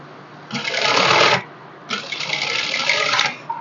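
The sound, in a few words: sewing machine stitching a princess cut blouse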